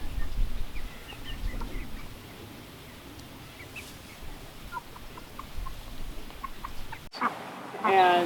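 Free-range backyard chickens, a mixed flock led by roosters, cluck softly and intermittently at a distance over steady outdoor background noise.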